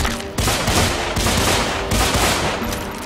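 Gunfire rattles in the shooter game Deadfall Adventures, loud rapid bursts of automatic shots in quick succession with brief gaps between volleys.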